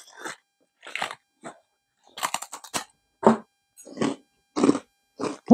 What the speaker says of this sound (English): Shelley Senbei, which is a round cracker with a crispy crunch and savory flavor